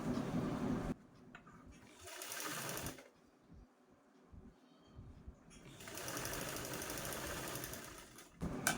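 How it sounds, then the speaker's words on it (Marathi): Sewing machine stitching a zipper onto a small piece of cloth, running in steady bursts: a loud stretch at the start and a longer run near the end, separated by quiet pauses with faint handling clicks. "मी ही जी झिप आहे ती स्टिच करून घेतलेली आहे"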